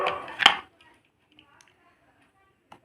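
A miniature plastic toy kitchen set's toy food being cut apart by a child at play: a couple of quick chopping taps up close at the start, then near silence with a faint click near the end.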